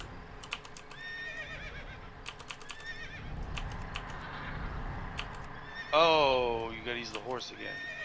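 A horse in the game World of Warcraft gives a loud, close neigh near the end, over quick keyboard clicks and soft clip-clop hoofbeats, while a person talks.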